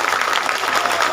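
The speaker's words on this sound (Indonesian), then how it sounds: "Tepuk tangan untuk seluruh jamaah." An audience at a nighttime Islamic religious gathering in Brebes claps together in a brief burst of dense, fairly close applause.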